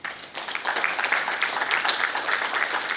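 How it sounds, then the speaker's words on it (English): Audience applause at a Toastmasters club installation ceremony, a crowd clapping steadily after a brief quieter start, moderately loud and sustained throughout. "They deserve a good round of applause"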